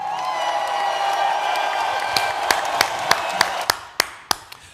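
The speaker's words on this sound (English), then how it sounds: "Let's give him a round of applause" A crowd applauds for a speaker, a dense wash of clapping and cheering that thins into several distinct, sharper individual claps near the end.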